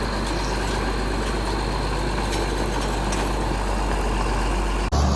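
A tractor engine idles steadily close by, a constant low rumble with a broadband mechanical hum that holds evenly throughout and cuts off abruptly near the end.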